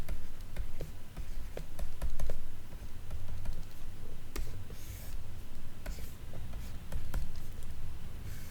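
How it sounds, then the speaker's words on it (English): A math expression being written out by hand, most likely pen or marker on a board or tablet, producing a steady run of light taps and scratchy strokes close by, with no talking. "Let me now write it down explicitly."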